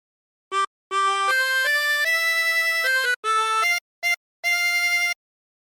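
The opening phrase of Home on the Range played on a 24-hole tremolo harmonica, a series of sustained, reedy held notes with brief gaps between them, close and clear with no talking.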